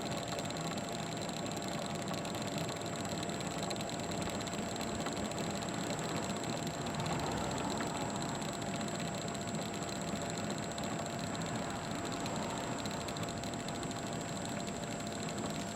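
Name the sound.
self-propelled lawn mower engine running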